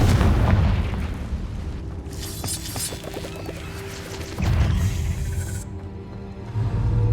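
A Confringo blasting spell exploding in a cave in Hogwarts Legacy, a heavy boom with crackling debris, followed by a low rumbling second blast.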